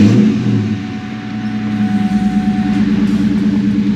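A New Edge Ford Mustang GT engine is started and revved: a loud, close, steady low rumble with a brief rise in pitch early on, then a rougher, pulsing idle, with no talking.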